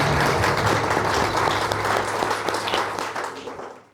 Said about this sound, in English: Give yourselves a hand in round of applause.